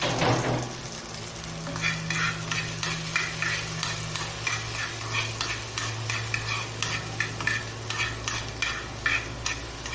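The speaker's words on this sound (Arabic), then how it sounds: "اول ما يسخن هننزل عليه بالثوم. دلوقتي بقى هننزل بالثوم اهو" Garlic sizzles in hot mustard oil in a pan, a steady crackling fry with rhythmic stirring and scraping clicks throughout, close and moderately loud, with no voices.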